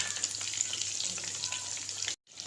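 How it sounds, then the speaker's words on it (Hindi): Brinjal pakoras fry over medium heat in a pan, giving a steady, close hiss of bubbling oil that runs evenly throughout before a sudden short dropout near the end. "ये सारे पैन में मैंने डाल दिए हैं। इसको मीडियम आंच पे हम फ्राई करेंगे।"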